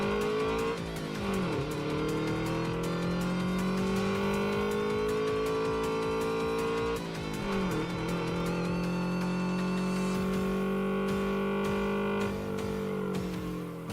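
A car races along a mountain pass in Redline Reverie, its engine droning loud and steady, pitch climbing through gears with dips at each shift, with no voices over it.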